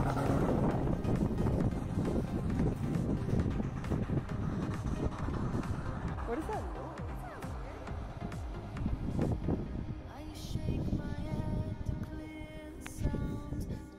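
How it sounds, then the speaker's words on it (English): Toyota FJ Cruiser engine bouncing off its rev limiter while pushing through deep snow drifts uphill, a loud continuous roar pulsing as revs hit the cutoff, with wind buffeting the microphone throughout. "you hear me bouncing off my rev limiter"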